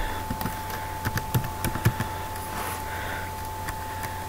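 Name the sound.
typing on a non-Mac computer keyboard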